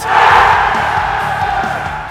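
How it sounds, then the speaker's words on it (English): Huge crowd at a Counter-Strike esports tournament roaring and cheering wildly, a dense loud wall of voices with rhythmic chant-like pulses. "It's because the crowd is fucking wild."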